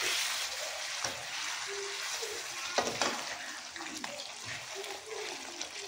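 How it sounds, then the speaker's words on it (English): A pot of vegetable soup with leftover meat stock bubbles and sizzles steadily up close, with occasional clinks and stirring scrapes over a constant simmering hiss. "Now I'll let this cook for a few more minutes before going with other ingredients."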